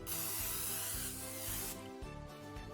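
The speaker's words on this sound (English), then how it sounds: "Here I have a loaf tin which I will grease with non-stick cooking spray." Non-stick cooking spray hisses from an aerosol can while greasing a loaf tin, a close, loud continuous spray lasting under two seconds, followed by quieter kitchen sounds.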